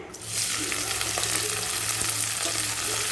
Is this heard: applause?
no